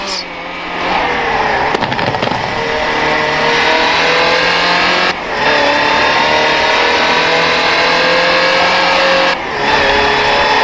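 Land Rover Type 3 engine driving in Forza Horizon 4, a loud steady engine drone with held revs, broken by two brief dips where the throttle lifts or gears change, no talk over it.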